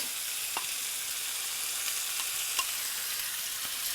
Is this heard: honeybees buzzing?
no